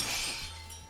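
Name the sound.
glass object shattering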